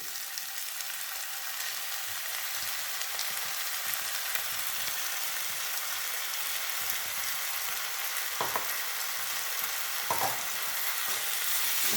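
Ginger garlic paste sauté with fried onions in a pan for a soya chunk and potato fry. A steady, even sizzle runs throughout, with a couple of brief clinks or stirring scrapes partway through.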